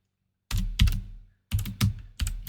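Typing on a computer keyboard comes through as close, crisp key clicks in short bursts separated by brief pauses, loud against a silent background.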